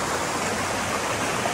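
Rushing river water near a waterfall on a rainy hike, a steady broadband wash of flowing water filling the whole short stretch with no voices.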